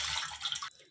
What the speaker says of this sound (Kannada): ಒಂದು ಪಾತ್ರೆ ಇಟ್ಟು ಅದಕ್ಕೆ 2 ಲೋಟಷ್ಟು ನೀರು ಹಾಕ್ಕೊತೀನಿ